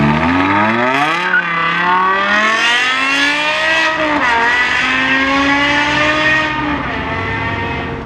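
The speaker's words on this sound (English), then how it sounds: "And you guys know BMW engines can rev all the way through. So this car on high revs sounds insane." A BMW M5 engine revving hard at high rpm, a loud sustained howl climbing and holding for several seconds with a brief dip, close and unbroken, with no voices.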